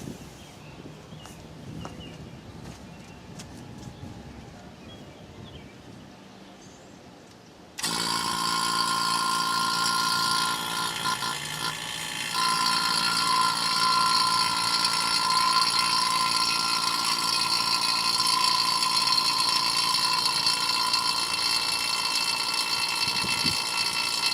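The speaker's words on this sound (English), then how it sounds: "putting a little bit of vacuum on here, draw the system down to get all the air out of there" A steady mechanical hum with a high whine starts abruptly partway through and runs continuously, loud and close, as a vacuum pump evacuates a supercharged Hyundai Tiburon's AC system, after a quieter stretch of faint background noise.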